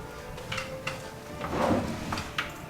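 A wooden drawer in a villa bedroom cabinet slides open and shut, with a few quiet clicks and a soft rolling rumble in a hushed room.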